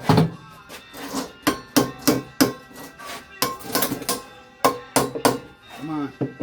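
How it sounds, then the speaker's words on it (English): Irregular metallic hammer blows knocking at a stuck part, a dozen or so sharp strikes with uneven spacing and a brief murmur near the end. "Looks like I'm gonna need a hammer to get this thing off."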